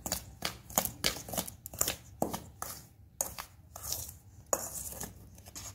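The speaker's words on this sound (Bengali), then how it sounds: "সুজির গুঁড়ো আর চিনির গুঁড়োটা ভালো করে মিশিয়ে নেব" Semolina and powdered sugar stirred together in a bowl, the spoon scraping and tapping in a steady rhythm of short, close strokes, fairly quiet with no talking.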